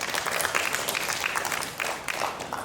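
An audience at an academic conference claps steadily after a presentation, a dense, even applause at moderate distance with no voices over it.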